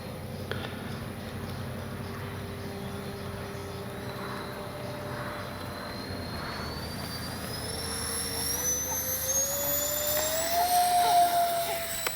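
Freewing 64mm A-10 Thunderbolt II RC model jet on its maiden flight: a steady electric ducted-fan whine whose pitch slowly rises and gets louder toward the end.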